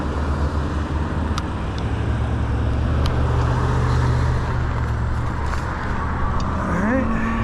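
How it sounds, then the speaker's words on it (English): Cars pass on a road beside a cyclist riding an ENGWE L20 2.0 e-bike, a steady rush of traffic with wind noise and a low hum throughout. "Couple cars."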